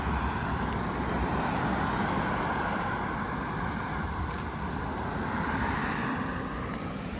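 A vehicle comes along a road near Loudoun County Parkway on a morning outdoors, its broadband tyre and engine noise rushing steadily in the distance and swelling slightly as it approaches.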